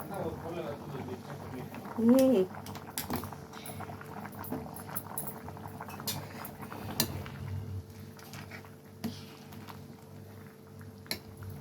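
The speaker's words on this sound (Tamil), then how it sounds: "கொதிக்கிற சவுண்டு கேட்குதா?" A mutton soup bubbles and simmers in a pot after pepper and cumin powder are added, with a steady stream of small pops and crackles throughout and a brief higher tone near the start.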